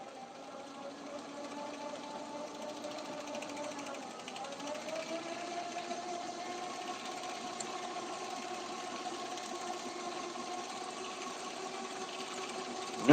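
A machine spools braided fishing line onto reels, giving a faint, steady mechanical whir with a constant hum that shifts pitch slightly partway through, running continuously at low level.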